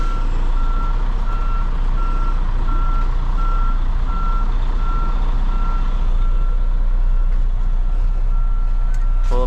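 A semi truck backs its trailer into position, with a steady, evenly spaced reversing beep repeating over a low engine idle and rumble.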